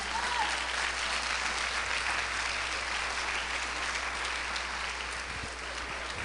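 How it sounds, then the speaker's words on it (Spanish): A church congregation applauds in worship, a dense, even wash of clapping from many hands that carries on steadily, fairly loud and close, with no break. "Dale una ofrenda de palmas al Señor."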